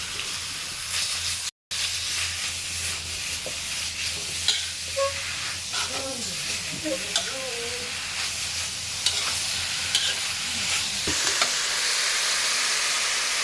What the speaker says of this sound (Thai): เนื้อหมูป่าลงไปผัด ให้เข้ากันนะครับ กับพริก